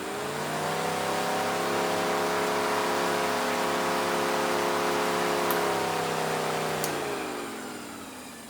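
A powerful greenhouse fan runs at maximum, a loud steady whirring hum whose pitch holds and then drops as it winds down near the end.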